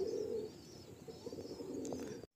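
Madrasi old line pigeons cooing inside a full loft, soft low repeated coos close by, with a brief cutout at the very end.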